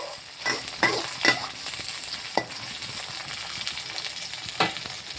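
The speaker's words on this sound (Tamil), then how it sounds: "வெங்காயம், பூண்டு, வெங்காயம், கருப்பில், பட்டை மிளகா, அப்புறம் கடுகு தாளிப்பு, கொஞ்சமாக உப்பு போட்டிருக்கேன்." Onion, garlic, cinnamon, chilli and mustard seeds with a little salt tempering in hot oil, a steady close sizzle broken by several loud stirring scrapes, no voices.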